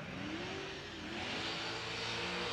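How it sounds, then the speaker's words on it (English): A 740-horsepower LSX race-built engine in a drift car revs hard during pro qualifying at a motorsport event, a steady loud roar with a rising, wavering pitch and no voices over it. "Huge horsepower, this 740 horsepower LSX race-built engine"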